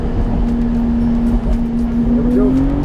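A LaFerrari-rivaling car at speed on a race track, its engine a loud, steady high-pitched drone that climbs slightly in pitch toward the end, with continuous road and wind roar underneath.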